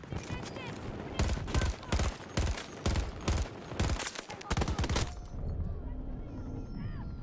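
Battlefield 2042 gunfire, rapid bursts of automatic fire in loud repeated volleys for about five seconds, then fading into quieter background battle ambience.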